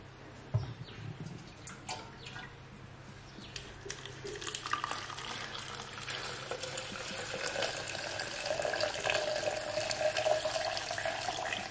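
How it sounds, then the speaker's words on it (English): Warm water is poured, beginning with scattered clinks and splashes and then building into a steady trickling pour that grows louder toward the end, with no talking. "So I have to pour warm water."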